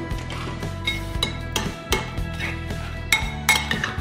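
Metal spoon clinks and scrapes against a pot while plov is stirred, giving irregular ringing knocks and clatters at close range with no voices.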